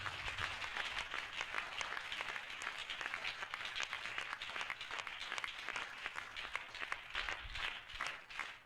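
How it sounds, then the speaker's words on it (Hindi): Sustained, energetic applause from a gathered Christian congregation, many hands clapping steadily and evenly for several seconds before tapering slightly at the end. "हम जोरदार ताली से उनका स्वागत करें"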